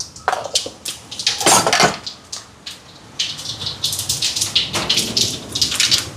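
Mustard seeds and fennel crackle and pop in hot oil in a pot, a dense, bright spattering hiss with scattered sharp pops, fairly close and steady, with no talking.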